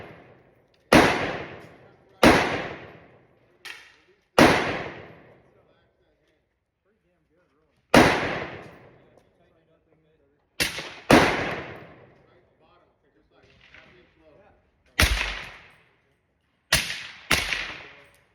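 Gunshots fired through a cheap Amazon suppressor, about ten sharp reports in irregular succession, each with a short decaying tail, some in quick pairs, loud and alone with brief quiet gaps between.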